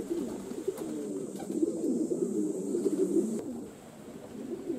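Pigeons coo from a stable roof in soft, rolling low murmurs that run steadily for several seconds, moderately near with no talk.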